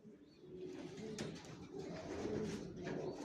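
Racer pigeons cooing softly at close range, several low repeated coos overlapping in a quiet loft setting.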